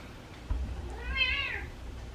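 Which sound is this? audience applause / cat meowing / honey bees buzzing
cat meowing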